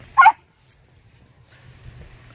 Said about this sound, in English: she just stay and bark on this tree for 5 minutes